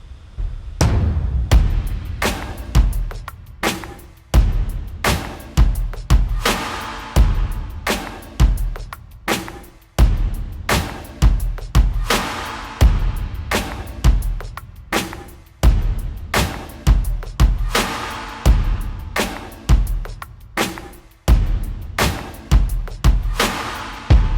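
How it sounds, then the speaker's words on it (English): A punchy, syncopated chorus drum beat built from heavy stomps, sharp claps and tubes, repeating steadily and loud throughout with no voices. "So there's like stomps, claps, tubes, all sorts of stuff that's going on here to kind of syncopate this drum"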